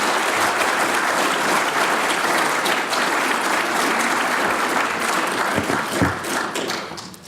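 A lecture audience applauds as a speaker for the John Freeburn Lecture in Public Policy walks to the podium, dense sustained clapping from a large crowd that holds steady for several seconds before thinning out at the end.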